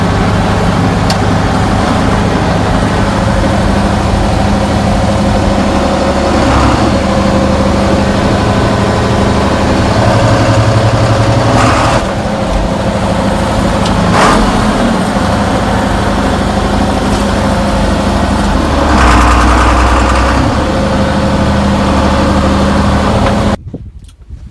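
A 1970s John Deere 7020 tractor, recently repaired for fuel injector pump issues, runs with a loud, steady low diesel idle and occasional clanks, continuing alone for about twenty-four seconds before cutting off abruptly.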